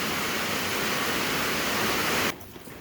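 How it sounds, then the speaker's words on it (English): Dense, steady heavy rain roars on a metal carport roof in a broad hiss for over two seconds, then cuts off abruptly to near quiet. "It started raining pretty hard here"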